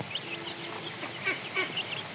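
Ducks on a small farm quack faintly and intermittently in a few short calls while being fed bran and husk in the rain, over a soft steady background hiss.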